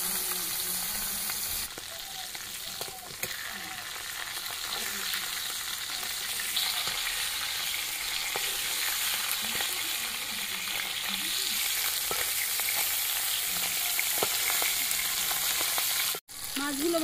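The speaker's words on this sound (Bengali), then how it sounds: "নুন, হলুদ, তেল গরম হয়েছে, মাছগুলো এবার ভেজে নেব।" Fish seasoned with salt and turmeric frying in hot oil, a steady loud sizzle and crackle running throughout with faint stirring clatter, close and without talk.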